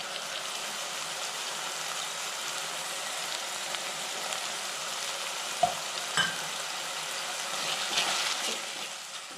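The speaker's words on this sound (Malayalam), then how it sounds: "തക്കാളി വഴണ്ട് തുടങ്ങിയിട്ടുണ്ട്." Chopped tomatoes sautéing in a pan with ginger, garlic and a green chilli, a steady broadband sizzle throughout with a few sharp stirring clicks, close and moderately loud, no talking.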